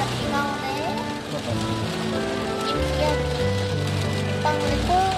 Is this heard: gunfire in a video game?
no